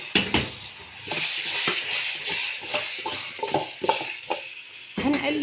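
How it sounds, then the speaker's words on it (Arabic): Garlic, bay leaves, cardamom, pepper and cloves frying together in a pot, a steady close sizzle broken by scraping stirs and spoon clatter against the metal. "الثوم وورق اللورا وكمان الحبهان والفلفل والقرنفل كله هننزل بيه مرة واحدة"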